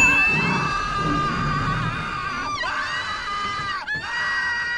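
Crowd of people screaming in a monster movie scene, a sustained loud chorus of high shrieks and shouting over a dense roar, continuous throughout.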